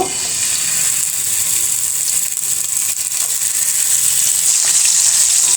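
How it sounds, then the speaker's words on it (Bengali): Pieces of bata fish fry in hot oil in a kadai (wok), a loud, continuous crackling sizzle that holds steady throughout, close up and with no talk. "তেল গরম হয়ে গেছে একে একে মাছগুলো দিয়ে দিব"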